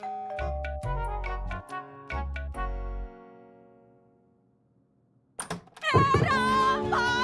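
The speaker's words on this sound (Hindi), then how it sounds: "कब से घंटी बज रही है" A doorbell chimes in two repeated ding-dong pairs, ringing out clearly before fading, followed after a pause by a burst of agitated voices.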